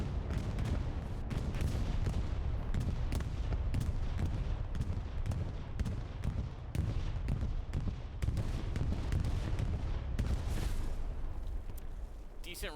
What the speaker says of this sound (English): Here comes a bombing run.